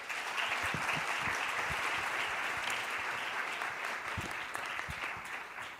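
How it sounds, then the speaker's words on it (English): A large conference audience gives Minister Jo a warm welcome at the Asan Plenum, dense, even clapping that swells quickly and stays full for several seconds before easing slightly at the end. "Please welcome Minister Jo with a warm round of applause."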